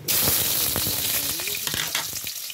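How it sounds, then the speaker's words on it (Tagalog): Sliced hotdog frying in a pan, a loud close sizzle and crackle with stirring and spattering pops throughout. "nag-fried ako ng hotdog na in-slice ko"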